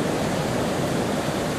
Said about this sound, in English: the waves come in and retreat, and virtually nothing is happening in the river